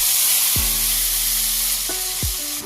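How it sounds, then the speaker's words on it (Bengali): Paste of onion and green chili sizzles loudly in hot oil in a pan, a steady close crackling hiss with a few scraping stirs of a spoon, no voices. "পেঁয়াজটা নাড়াচাড়া করে ভাজা ভাজা করে নেব।"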